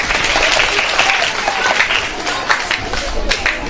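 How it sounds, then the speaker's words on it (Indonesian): Audience at a school event with kindergarten and elementary performances, applauding in a steady dense patter of many hands, continuous and fairly loud throughout. "Boleh berikan tepuk tangan."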